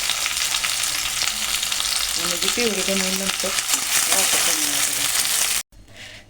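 Onion, tomato and green chillies fry loudly in a pan for a palak paneer puree, a dense close sizzle under a woman's speech, cutting off abruptly near the end.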